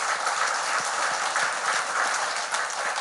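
A church congregation claps together in a steady, even round of applause that holds from start to finish with no voices over it.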